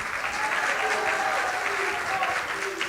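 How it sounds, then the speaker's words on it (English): Audience applause at a city council meeting, a short burst of steady clapping from many people in a hall, moderately loud, with faint voices underneath. "So give yourself a round of applause."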